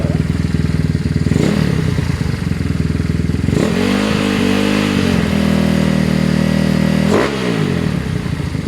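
A Yamaha Nouvo 170cc scooter engine idles loudly close up, then revs twice, each rise in pitch holding for a few seconds before dropping back to a steady idle.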